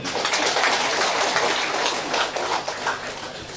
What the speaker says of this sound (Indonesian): Kembali kita tepuk tangan untuk Romo Robi